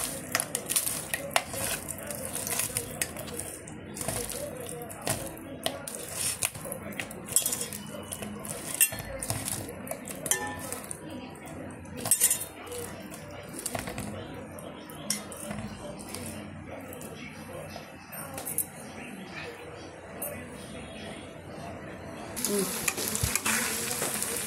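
Korameenu fish pickle being mixed in oil, with continuous wet sizzling and scraping, frequent clinks of a utensil against the pot, and occasional talk underneath.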